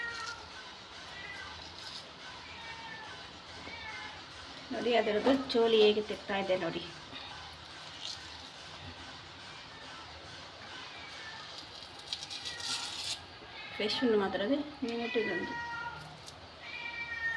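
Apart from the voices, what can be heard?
cat meowing outside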